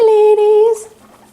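A guinea pig gives a sustained squeaky, whistle-like call during floor time, nearby and fairly loud, lasting under a second before trailing into quiet.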